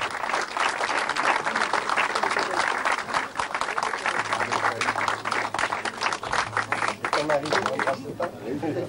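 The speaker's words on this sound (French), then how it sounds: "sous vos applaudissements, mesdames, messieurs, sous une gerbe d'applaudissements, je vais avoir le plaisir de la décorer devant vous" Sustained audience applause at an international award ceremony in Nice, dense and steady for most of the stretch, with voices mixed in and a low hum, easing toward the end.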